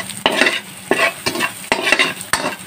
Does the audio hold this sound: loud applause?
no